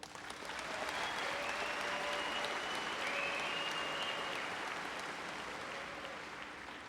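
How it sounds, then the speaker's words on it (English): A high school commencement crowd gives graduating seniors a sustained round of applause, a broad, even wash of clapping heard from a distance that swells and then gradually eases. "Give them a nice round of applause."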